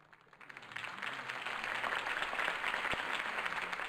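Crowd applause in a Batman video game swells from a quiet start into a steady, dense clapping roar that holds for several seconds.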